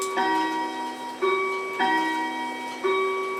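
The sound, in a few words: grandfather clock ticking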